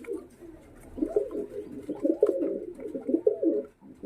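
Pigeons of a high-flying breed coo close by in a steady run of soft, throaty warbling phrases that rise in the middle and fade near the end.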